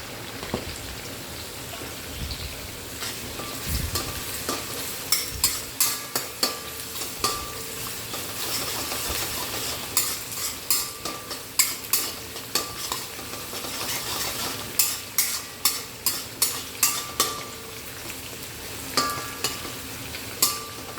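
Onions sautéing lightly in a pan, a steady close sizzle broken by repeated sharp spatula scrapes and taps that come in quick clusters, with no talking.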